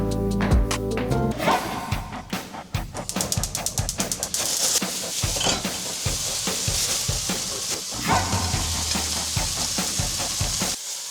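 Spicy Korean pork jeyuk bokkeum stir-frying in a pan, a steady loud sizzle with scraping stir strokes throughout and no talking.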